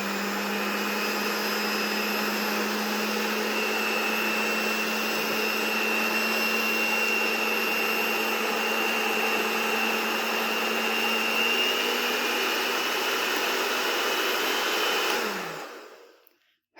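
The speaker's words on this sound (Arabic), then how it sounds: "هخلطهم انا عشان صوت المضرب" An electric hand mixer beats cake batter with vanilla and eggs in a steady, loud whirring drone that holds for about fifteen seconds before winding down and stopping, with no talk.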